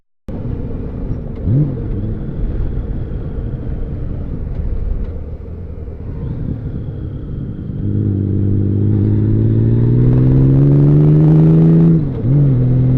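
Honda Valkyrie motorcycle engine while riding: a deep, steady rumble with wind noise, rising into a stronger droning pull partway through, then briefly dipping near the end, loud and close throughout.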